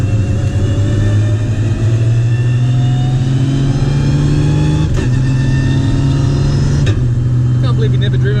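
A 1000hp Nissan R33 GTS with an HGT sequential gearbox and flat-shift setup drives along, its engine droning and rising steadily in pitch, with quick shift breaks at about five and seven seconds while people talk in the car.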